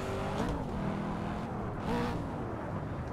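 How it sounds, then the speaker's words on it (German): Engine of an engine-swapped JDM car at full throttle in fourth gear, a loud, continuous roar that rises and falls as it pulls, with no talk. "Ich gebe jetzt mal im vierten Gang Vollgas."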